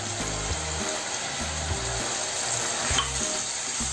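Semolina roasting in ghee in a pan, a steady soft sizzle and frying hiss that holds level throughout with faint stirring scrapes and no voices.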